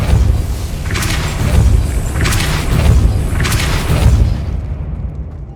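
Depulso spell cast in Hogwarts Legacy, heard as three booming magical blasts spaced about a second and a half apart, each with a whooshing burst over a steady low rumble.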